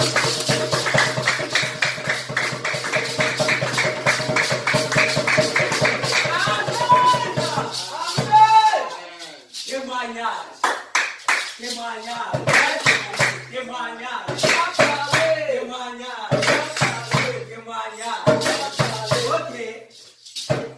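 Church congregation at a Sunday service clapping in a fast, steady rhythm for several seconds, then the clapping thins into scattered claps mixed with voices and acclaiming shouts.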